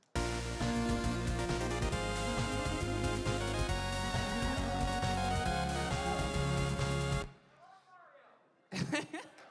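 A full chiptune mix made in FamiTracker plays loud and dense, with bright square-wave melodies, buzzy bass and noisy drums, then cuts off into quiet room tone before a brief return of music at the end.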